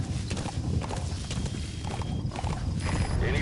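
Horse hooves clip-clop steadily in Metal Gear Solid V, a continuous near, fairly loud rhythm of hoofbeats throughout with no talking.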